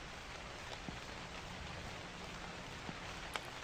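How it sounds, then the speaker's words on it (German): Rain falls in the horror game The Convenience Store, a quiet, steady hiss with a few faint drop ticks throughout. "Dieser Regen."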